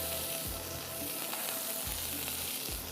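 Chapli kababs fry with vegetables in hot oil, a dense continuous sizzle close up, with occasional low thumps as pieces are moved around.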